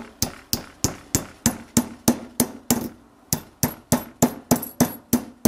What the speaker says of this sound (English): I flattened the curved piece with using a nylon hammer